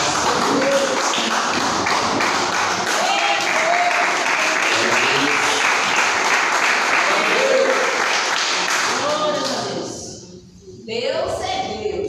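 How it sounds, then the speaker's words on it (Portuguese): Church congregation clapping hands in praise, steady dense rhythmic clapping throughout with singing or voices mixed in, loud and close, briefly dropping near the end before resuming. "exalta o Senhor com as palmas"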